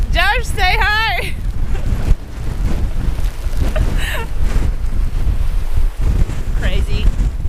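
Strong wind gusts of about 80 km/h batter the microphone with loud, uneven buffeting and roaring rumble, while voices speak briefly over it.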